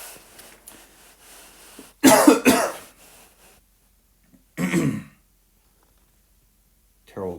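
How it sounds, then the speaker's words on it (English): A person breaks into a coughing fit during a math lesson, with two harsh bursts of coughs separated by quiet pauses, a softer murmur before them and a brief sound at the very end. "Terrible time to start a coughing fit."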